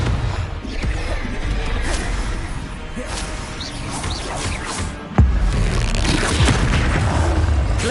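Confringo blasting spell in Hogwarts Legacy, a heavy booming impact with crashing debris, one sharp blast landing midway over a rumbling, mechanical game soundscape.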